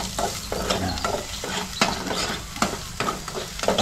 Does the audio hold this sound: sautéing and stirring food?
yes